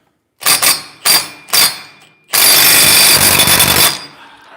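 Impact wrench torquing wheel bearing bolts on a CFMOTO race car: three short loud rattling bursts, then one longer sustained hammering run, close up.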